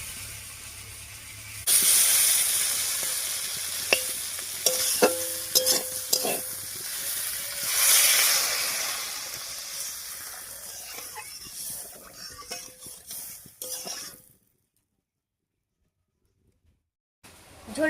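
Curry of winter vegetables and mixed river fish cooking in a pot over village-style heat, giving a loud hissing, bubbling sizzle with occasional stirring clinks, then falling abruptly silent near the end.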